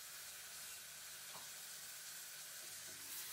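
Onions and pieces of vadukapuli curry lime fry in a pan while being stirred, a faint steady sizzle with a few soft scrapes, quiet and continuous.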